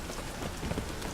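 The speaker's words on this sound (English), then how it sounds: "è arrivata una bella tempesta" A storm in the video game The Witcher 3 brings rain drumming on surfaces, a faint, busy patter with scattered drop hits throughout the short moment.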